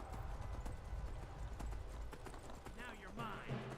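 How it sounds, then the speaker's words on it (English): Hooves of a dwarven horse clopping in Skyrim, a quick rhythmic clip-clop under continuous game sounds and a person talking over them. "that's a dwarven horse"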